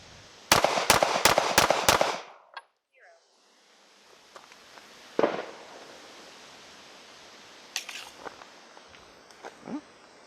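Five sharp Sig Sauer P320c pistol shots ring out at a shooting range in quick, evenly spaced succession, loud and close, followed by quieter handling clicks and someone speaking briefly.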